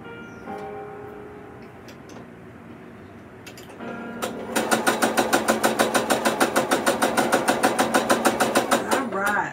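Sewing machine stitching fabric, starting after a few quiet seconds of low room noise, then a fast, evenly spaced run of sharp mechanical clicks and hums that continues steadily to the end at moderate volume.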